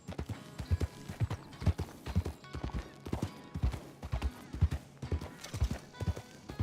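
Horse hooves clip-clop steadily in a video game, a regular rhythmic trot of close, distinct hoofbeats continuing without pause.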